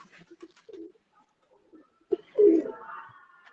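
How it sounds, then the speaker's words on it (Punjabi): Black-faced pigeons coo in a few soft, separate notes at first, then a louder, nearby rolling coo rises near the end, with no talking in between. "ਹੁਣ ਜਨਾਬ ਲਾਲ ਦਾਗਾਂ ਵਾਲੇ ਕਬੂਤਰ ਆ ਗਿਆ ਜੀ"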